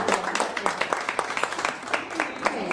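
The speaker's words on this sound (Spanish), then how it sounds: "Le vamos a dar un aplauso a Loli" A small group applauding indoors, light, scattered clapping with distinct individual claps, fairly faint, with voices talking over it.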